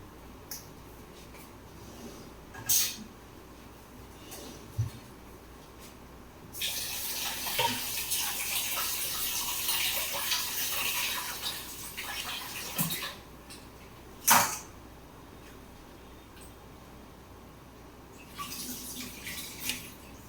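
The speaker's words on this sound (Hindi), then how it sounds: "इसको हम धो लेंगे एक बार छन्नी में" Food being rinsed in a kitchen strainer under a running tap while cooking banana kofta curry with potatoes and rice, a steady water rush of several seconds flanked by faint drips, clatters and sharp handling knocks, no talk.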